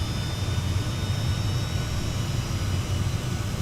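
A Cessna Citation X jet engine spools up in the MSFS 2024 flight simulator, a steady low roar with a thin high whine running through it, continuous and fairly loud.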